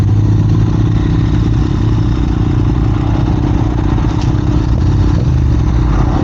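A 2021 Triumph Daytona 765 Moto2 motorcycle engine runs close and loud, with a steady deep rumble and rapid mechanical clatter holding a constant pitch throughout.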